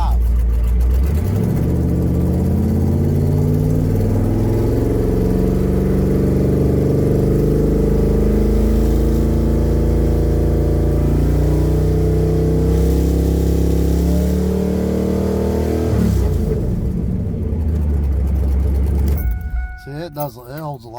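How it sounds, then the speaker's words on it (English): A turbocharged 5.3 LS V8 in a truck rises from idle to about 3000 rpm, holding a steady rev with rising and falling pitch, then drops back as the engine settles. Someone talks over it. "watch when I rev it up to about 3 grand"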